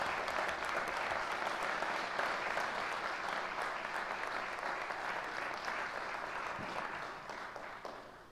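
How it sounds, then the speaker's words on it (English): A city commission meeting audience gives a sustained round of applause, dense and steady, fading toward the end. "So if you would give them all another round of applause."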